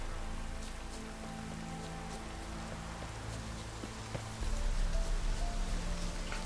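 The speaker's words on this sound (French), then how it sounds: "Il pleut déjà, mon gars." Steady in-game rain in The Witcher 3: Wild Hunt patters on a surface, with scattered drops ticking over a low hum that swells a little louder toward the end.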